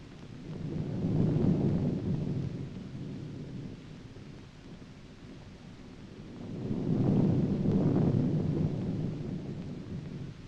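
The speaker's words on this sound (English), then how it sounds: "The next morning, the weather was more or less stormy." Stormy weather with deep, rumbling thunder that swells twice, one roll early and another near the end, over a steady low background roar with no voices.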